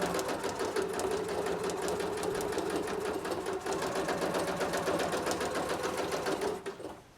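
A sewing machine stitches a final quilting line across a vest front layered with Thinsulate insulation, running at a steady, fast, even rhythm throughout before slowing and stopping at the very end.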